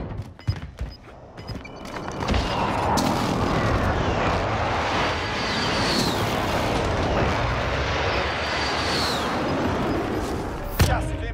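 Precision airstrike in a war video game: a roaring aircraft pass with rumbling explosions, loud and sustained for several seconds, closing with a sharp blast.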